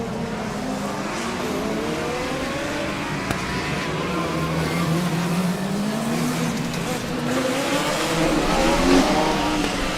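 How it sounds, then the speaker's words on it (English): Formula Student race cars with many different engines circling the FSG endurance track, a continuous layered roar of revving and shifting pitches at mid distance, several engine notes overlapping throughout. "The real symphony of noise coming from the track right now. A lot of different engines, a lot of different notes."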